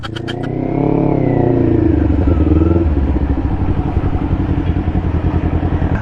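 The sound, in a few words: motorcycle engine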